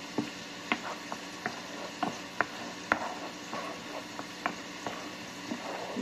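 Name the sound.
garlic frying in melted butter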